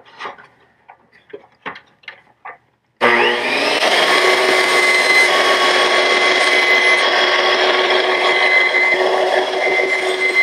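Power tool, likely a jigsaw, cutting into a plastic aquaponics solids lifting overflow part: a few light taps, then a loud, sustained buzzing whine that runs steadily to the end.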